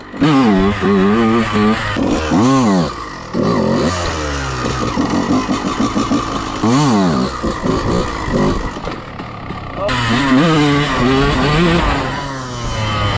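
A Honda CR125R two-stroke dirt bike is ridden hard, its loud, close, raspy engine revving up and down with sharp throttle blips and gear changes throughout.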